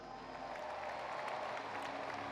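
Crowd applause at a ski jumping event, a steady broad wash of clapping from a large audience that holds evenly throughout without speech.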